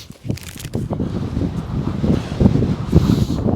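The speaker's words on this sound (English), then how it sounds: "It really is quite windy now and it's so cold in the wind" Strong gusty wind at a remote Scottish loch buffets the microphone with low rumbling roars and rustling, growing louder toward the end.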